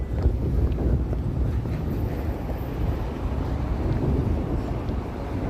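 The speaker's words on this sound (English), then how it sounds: "Even if it is getting colder and windier." Wind gusting along a Toronto city street during late-afternoon rush hour on a cold day, a steady, loud, low rumbling buffet across the microphone with no pauses and no talking.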